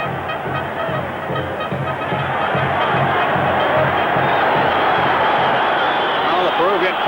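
A large Peruvian football crowd at a stadium roars steadily, a dense, loud, sustained rumble of voices and chanting with rhythmic pulses, growing slightly fuller toward the end.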